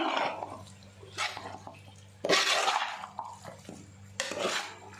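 Cooked chicken is stirred into biryani masala in a pot with a spoon, making loud scraping and clattering strokes in uneven bursts and a soft wet squelch between them. No one speaks.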